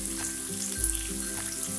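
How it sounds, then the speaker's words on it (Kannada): Green chilies frying in hot oil in a pan, a steady close sizzle with soft crackling and a low thump partway through, no voices. "ಹಸಿಮೆಣಸು ಕೆಂಪಗಾಗುವವರೆಗೂ ಹುರ್ಕೊಳ್ಳೋಣ."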